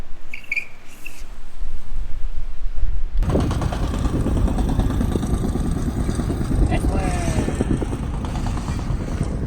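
An electric rental-style scooter and a unicycle roll along outdoors, a steady close mechanical whir and road rumble that starts abruptly after a few seconds of quieter ambience and holds loud to the end, with wind noise throughout.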